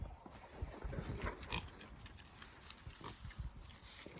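Low, soft grunting from pigs rooting nearby, irregular short snorts over a quiet outdoor background.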